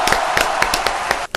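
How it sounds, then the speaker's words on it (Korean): Audience applause after a rock band interview segment, a steady burst of many hands clapping close and loud, with sharp individual claps standing out before it thins and stops near the end. "박수 한번 치겠습니다."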